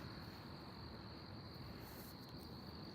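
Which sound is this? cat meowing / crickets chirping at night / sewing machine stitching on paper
crickets chirping at night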